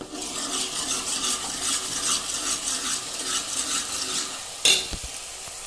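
Ginger garlic paste fries and sizzles steadily in a pot with onions for a village-style mutton curry, a spoon stirring through it in rhythmic scrapes, with a sharp metallic clank near the end.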